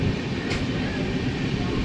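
A train rumbles loud and steady at Harihar railway station in Karnataka, a dense continuous roar of rolling wagons heard close up without any voices.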